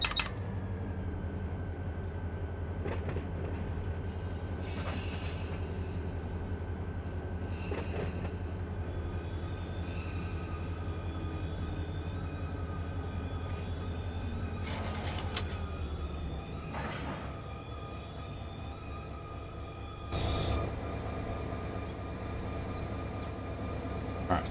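A locomotive on the SJVR Tricor local in Run 8 Train Simulator v3 gives a steady low diesel rumble with metallic creaks and a rising squeal, continuous and fairly close throughout.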